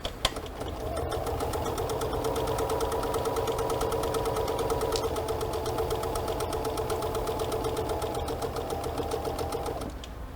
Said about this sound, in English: And I'm going to stitch the same on this side.